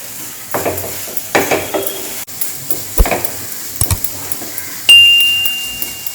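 Ingredients sautéing in a pan for a Maha Shivaratri prasadam, with intermittent scraping and stirring knocks of a spoon against the vessel over a low sizzle, and one sharp metallic clink near the end.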